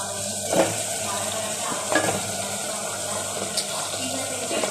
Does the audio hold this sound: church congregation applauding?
no